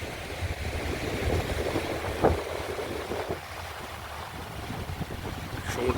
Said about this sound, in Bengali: সমুদ্রের গর্জন